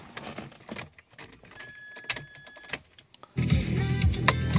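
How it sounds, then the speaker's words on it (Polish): A bunch of car keys jangles and clinks in brief metallic bursts while someone searches for the key to an Opel Astra G II. A louder, dense noise then takes over near the end. "Czekajcie, znajdę kluczyk."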